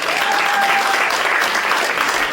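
Steady applause from an audience gathered at a talk on the Druze people, dense and continuous, a faint thin tone running through the first second.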